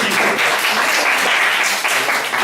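Audience applause at a lecture, dense steady clapping from a large crowd, loud and sustained throughout.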